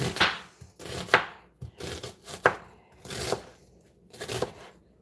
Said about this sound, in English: I'm going to be cutting the onion